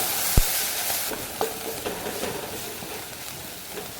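Onion, carrot and spinach stirred in a clay pot with salt and a pinch of turmeric, giving a steady soft sizzle with scraping strokes and a sharp knock near the start, no voices.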